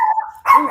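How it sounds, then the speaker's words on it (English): A single close, loud bark from a female dog, a short yelp that rises into a sharper second burst. "She's barking at Paul."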